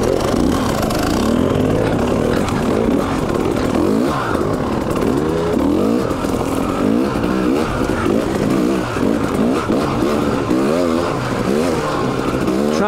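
A 2019 KTM 300 XC W TPI two-stroke dirt bike revs and pulls away on a trail, its engine buzzing loudly with repeated throttle surges and a rough, rasping tone up close.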